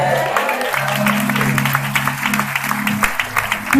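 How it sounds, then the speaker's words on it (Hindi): An audience claps at a prophetic worship gathering in Gorakhpur, Uttar Pradesh, producing moderately loud, uneven claps that continue steadily beneath a sustained voice. "कुछ लोगों को पता ही नहीं चल रहा वो ताली क्यों बजा रहे"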